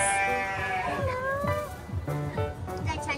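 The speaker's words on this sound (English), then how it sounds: "Look, more goats over here." Goats bleat several times at a county fair, one long wavering call followed by shorter overlapping bleats nearby, with faint background noise and no clear talking.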